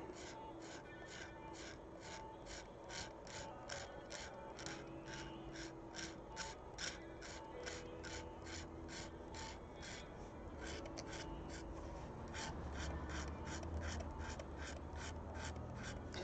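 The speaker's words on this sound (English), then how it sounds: "I really should have just been sanding this instead of scraping it." Steady, rapid scraping strokes of a hand tool on a 3D-printed part repeat in a regular rhythm, close by, with a faint low hum underneath and no talking.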